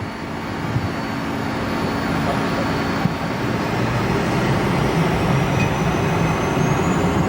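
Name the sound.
private jet taking off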